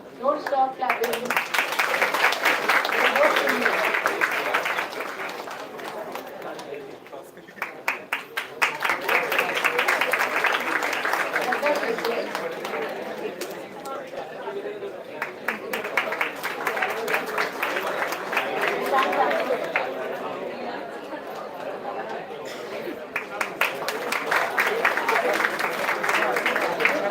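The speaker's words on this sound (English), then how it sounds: "Don't stop clapping." An audience claps at a college convocation ceremony, with steady applause continuing in waves under a voice reading names over a PA.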